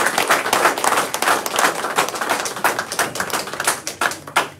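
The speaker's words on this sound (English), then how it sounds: "I like to just take a few seconds to give a round of applause" Audience applause at a press conference held after a CNMI gubernatorial win, a brisk, dense round of clapping from a room of people, close and lively, with no talk over it.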